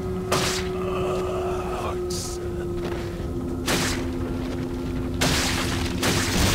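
A few heavy gunshots ring out in Resident Evil 4 gameplay, separate booming blasts spaced over a steady background hum and game music, with some speech present.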